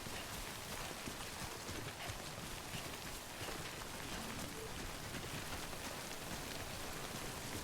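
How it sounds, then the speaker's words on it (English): Rain falls steadily in the video game Death Stranding, a dense even hiss of drops that continues unbroken throughout, with no talking. "The rain does sound nice."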